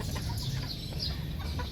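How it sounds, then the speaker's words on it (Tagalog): Roosters and young hens on a rainy-season poultry farm cluck softly and continuously, a low busy flock murmur close by with scattered higher calls over steady background noise. "nandyan yung mga tandang saka mga dumalaga"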